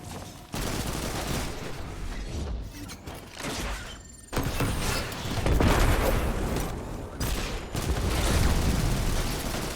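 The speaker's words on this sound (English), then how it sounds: "I'm just gonna finish it with my auto rifle." Auto rifle fire in Destiny 2 during a Legend Lost Sector: sustained rapid automatic bursts with a short gap around four seconds, loud and dense alongside explosive booms.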